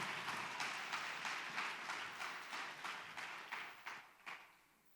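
A church congregation claps together during a service, a steady patter of many hands at moderate distance that gradually thins and fades out over a few seconds.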